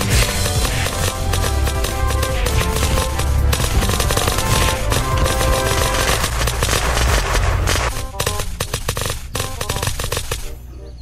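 Rapid automatic gunfire from the survival video game Unturned rattles loud and nearly nonstop for the whole stretch, dense overlapping bursts with a faint voice buried beneath, easing slightly near the end.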